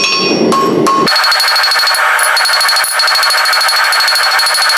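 A blacksmith's hammer strikes hot steel for a marble-handled cheese slicer, ringing loud and metallic with a rapid, even run of blows that blends into continuous clanging.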